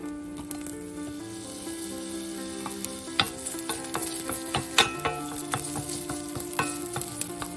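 Ginger and garlic fry in a hot pan with a steady sizzle. Sharp stirring scrapes and clicks come through at close range, and there is no talk over it.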